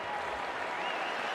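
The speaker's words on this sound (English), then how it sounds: "Nice round of applause from the crowd here in Austin." Steady crowd applause fills a college football stadium in Austin during a Texas game against Texas A&M, a dense continuous wash of clapping at even loudness throughout.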